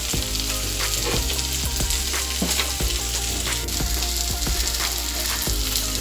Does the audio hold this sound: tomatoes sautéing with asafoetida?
yes